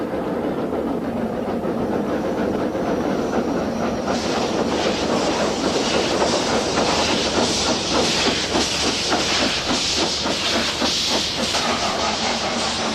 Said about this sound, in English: with a triumphant blast and a cloud of steam, Enid gently pushes its coach load into the summit platform